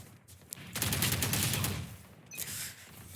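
Rapid burst of gunfire in Valorant, a dense rattling volley about a second long followed by a shorter second burst, loud and close with little talk.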